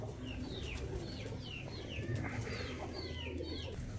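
Golden pigeons with red eyes, kept for about five years, make a series of repeated short calls over a soft, constant background, fairly close and without speech.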